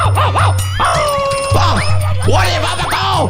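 A cartoon dog barks and yips in quick, bright, close bursts, set against a steady low hum from the scene.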